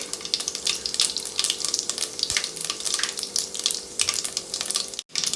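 Loud crackling sizzle of mustard seeds, fenugreek, cumin and asafoetida frying in hot oil for sambar, with rapid popping bursts and a brief break near the end.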